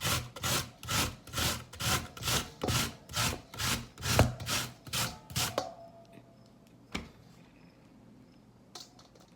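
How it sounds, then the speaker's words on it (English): An apple with its skin still on is rubbed against the coarse side of a grater. It makes about a dozen rhythmic rasping strokes that are loud and close, then stops and leaves near silence with a couple of faint knocks. "On this side of the grater, not the fine side, this side here, apple with the skin and everything."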